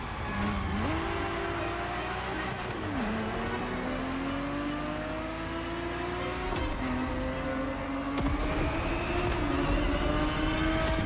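A Ferrari 365 GTB4 engine in the racing game The Crew Motorfest revs and climbs through gears, its steady drone rising, dipping at shifts, then surging louder near the end, with no voices over it.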